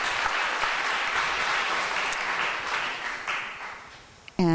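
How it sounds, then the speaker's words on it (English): A church congregation at a Sunday service claps together in a sustained round of applause, a dense, fairly loud wash of many hands that holds steady for several seconds before tapering off, with a brief clatter at the very end. "Let's offer a round of applause for gratitude."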